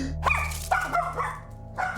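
A dog barks in short bursts, several sharp yips and barks in quick succession with a brief pause, close and clear, over a low steady hum in an indoor setting.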